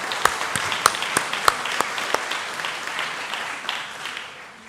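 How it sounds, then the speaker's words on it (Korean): Korean church congregation applauding in thanks during a Sunday service: a few sharp close claps at first over a spread-out crowd clapping that gradually fades. "우리 김정호 집사님께 감사의 박수를 한번 올리겠습니다"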